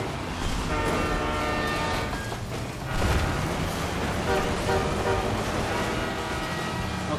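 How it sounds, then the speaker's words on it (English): A train rushes past with its horn sounding in the physics game Teardown, a dense continuous roar of rolling wheels and wind with tonal horn blasts, loud and close throughout. "Of course that train did that."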